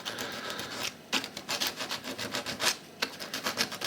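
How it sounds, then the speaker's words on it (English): Sandpaper lightly rubbed over the tops of parts to flatten them before soldering on a homemade FM transmitter, heard as close, rhythmic scratchy strokes in short bursts. "Next we'll use a bit of sandpaper just to lightly flat the tops, ready for a bit of solder,"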